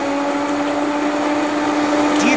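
A Vitamix blender runs continuously in a restaurant kitchen, its motor whine steady and loud, with a rising tone near the end as the speed climbs.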